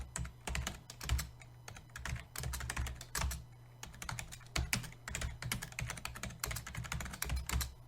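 Rapid, close keystrokes on a computer keyboard while code is entered in Notepad, clicking in quick uneven bursts with brief pauses, over a low steady hum.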